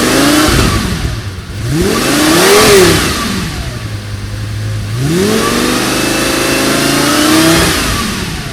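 Lamborghini Gallardo V10 revved with its exhaust valve closed in quiet mode: several rising and falling blips with a steady idle between them, close and fairly loud, with no talk.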